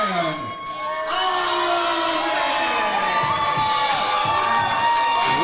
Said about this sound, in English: Listen to that crowd pop.